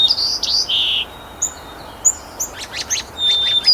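A sparrow that breeds in subarctic and Arctic regions and migrates through in fall and spring sings high, thin whistled notes and quick trills, several short phrases over a soft outdoor background.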